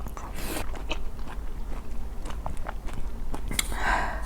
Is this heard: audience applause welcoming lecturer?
no